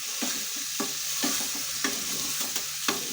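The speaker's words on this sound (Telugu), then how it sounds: "పోసేసుకున్న తర్వాత వీటిని కూడా నూనెలో కొంచెం ఎర్రగా వేపుకోవాలి." Toor dal fried in oil in a pan until reddish, sizzling steadily while a utensil scrapes and stirs it in regular strokes, close and clear with no talking.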